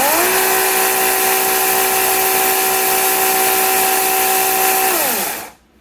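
A Teccpo 40-volt cordless electric chainsaw whines at a steady high pitch, spinning up quickly, holding constant for several seconds close by, then winding down to silence.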